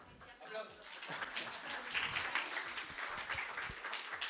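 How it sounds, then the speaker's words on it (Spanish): Audience applause at a talk rolls on as a continuous wash of many hands clapping, fairly faint and distant, building slightly then holding steady for several seconds. "Es la primera vez que me pasa que me aplauden tanto"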